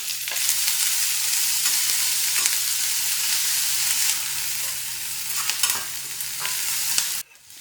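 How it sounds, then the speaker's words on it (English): Cashews, ginger, garlic and onion sautéing in hot oil, giving a loud, dense, continuous sizzle with occasional stirring scrapes, heard up close before cutting off abruptly near the end. "a handful of cashew nuts, an inch of ginger, 3 garlic cloves that I saute first, and then to this I add in 1 large onion"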